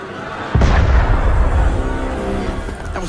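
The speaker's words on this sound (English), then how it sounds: "That was cannon fire." Cannon fire in the Assassin's Creed Unity video game: a sudden loud blast hits about half a second in, followed by a long rumbling, crackling roar that stays loud for the rest of the clip.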